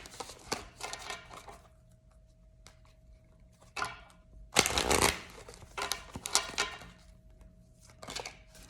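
Oracle cards being shuffled in several quick riffling bursts, with light taps and pauses between them, close and fairly quiet.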